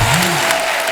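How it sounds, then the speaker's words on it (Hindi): Applause from the studio audience of a Hindi TV comedy show, a steady dense wash of clapping over music, with a brief voice at the start. "एक जोरदार तालियां हो जाए यार"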